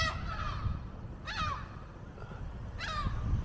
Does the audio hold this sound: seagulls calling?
yes